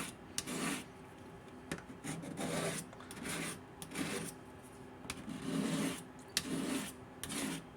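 Small paring knife being sharpened in a kitchen: steady repeated rasping strokes of steel across a stone, rhythmic back-and-forth scraping at moderate volume with no talk.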